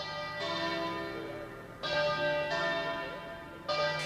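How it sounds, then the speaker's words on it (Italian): Church bells toll for a funeral in Anguillara Veneta, the bronze strikes arriving in overlapping waves with long ringing decay, full and resonant with no voices over them. "il silenzio rotto dal suono delle campane avvolge la comunità di Anguillara Veneta"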